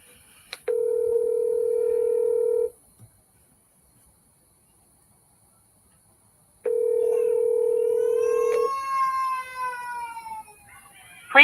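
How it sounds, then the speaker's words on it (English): A telephone call tone sounds before a voicemail greeting: two long steady beeps separated by silence, the second followed by a brief rising warble, loud and close with no speech. "Rose, answer the phone, Rose."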